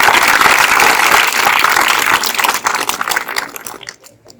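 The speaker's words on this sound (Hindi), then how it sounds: "सब लोग ताली बजाओ" Village audience in Bhagar, Siwan, Bihar claps together at a community gathering, a loud dense burst of applause that thins and fades out over a few seconds.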